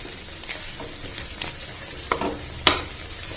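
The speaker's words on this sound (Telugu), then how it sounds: "పసుపు వేసుకొని కూడా మిక్స్ చేసుకొని ఒక 2 మినిట్స్ మళ్ళీ ఫ్రై అవనిద్దాం" Fish curry masala with turmeric fries quietly in a pan, a soft background sizzle broken by a few scraping stirs and clinks of a spoon against the pan.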